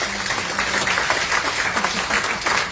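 A large audience at Rav Touitou's talk in Netanya applauds loudly, a dense, steady wash of clapping that holds at full strength from start to finish.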